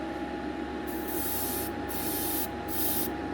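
A Gaahleri Ambition series airbrush sprays natural gray enamel paint at 21 psi, a steady close hiss in repeated bursts, with a compressor humming low underneath throughout.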